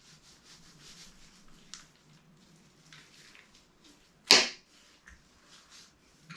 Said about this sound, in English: I like a thicker steak, so cut them about an inch.